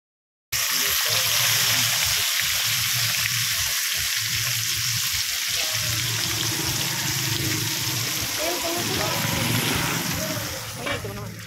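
Fish frying in a pan on one of two stovetop burners gives a loud, continuous sizzle and spatter that holds steady throughout, then eases slightly at the end.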